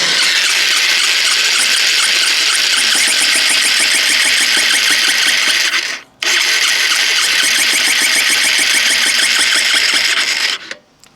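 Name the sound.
Honda CBF 125 motorcycle engine running with a bad noise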